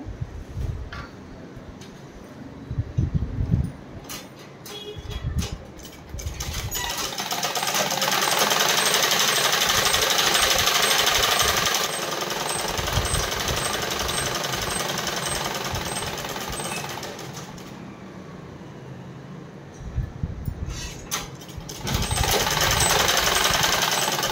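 A sewing machine runs in long bursts, whirring as it stitches the curved seam of a size 40 pair of leggings, with short pauses and handling noises between runs.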